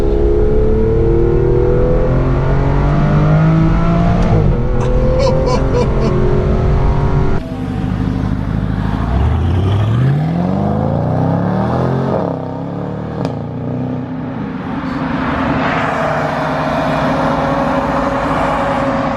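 A Porsche GT2 RS on the road sounds loud and near as its engine pulls hard and then drops on downshifts, with a rising pitch sweep partway through and wind noise over the car.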